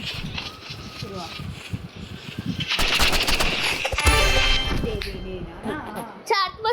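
Rapid bursts of gunfire from the Roblox game Rivals, loud and clustered, mixed with game effects while children talk over it throughout.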